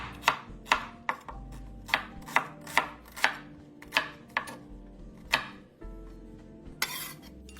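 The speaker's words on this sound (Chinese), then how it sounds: "洋葱250克，取一个切成薄片，一会用油爆香" Knife chopping an onion into thin slices on a board, about a dozen crisp, evenly paced cuts, close and clear, with a short pause near the end.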